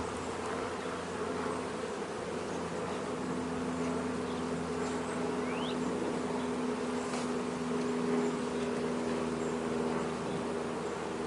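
Honey bees buzz steadily around an open hive as drone comb is pulled from a frame, a dense continuous hum filling the whole stretch with no talking over it.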